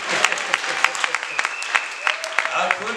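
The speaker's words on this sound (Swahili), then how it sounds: "Pigia Yesu wangu makofi." A church congregation applauds at a Pentecostal service: steady, dense clapping throughout, with sharper bursts standing out and a voice and music carrying over it.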